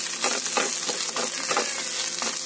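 Onion pesarattu, a green gram dosa topped with onions, sizzles steadily on a hot pan, with soft rhythmic scraping and crackling bursts close by and no talk.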